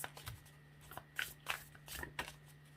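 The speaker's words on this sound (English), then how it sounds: "I have to stop shuffling for a second" Tarot cards being shuffled by hand, soft, quiet riffling bursts repeating at irregular intervals, close up with no talking.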